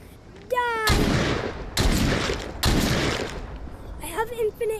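Bursts of video game weapon fire from an infinite-ammo gun, three loud sustained volleys in close succession, with a voice and brief tones at the start and end.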